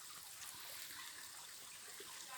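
Clear water seeps and trickles steadily into a pool, a soft, continuous, close-up hiss of flowing water with no talking.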